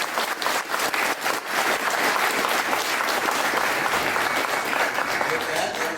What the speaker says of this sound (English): I'd like us to give all our candidates a round of applause.